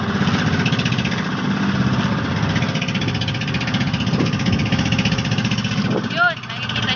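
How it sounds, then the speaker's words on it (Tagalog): Boat engines run near and loud, a steady chugging drone throughout, with a short tonal sound near the end. "Pinaandara ni Boski yung isang makina at itong isang makina naman napapaandarin niya"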